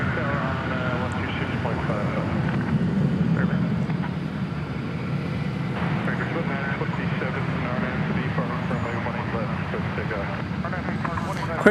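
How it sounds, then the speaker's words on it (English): An Airbus A320 arriving at Dallas–Fort Worth airport rumbles with a steady low engine drone that swells and then eases off a little, while a voice talks over it throughout. "It's an Airbus A320."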